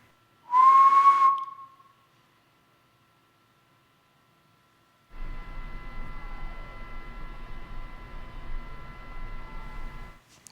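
A single clear whistle rings out once near the start inside an old haunted county jail, followed by silence and then a long stretch of steady hiss and hum.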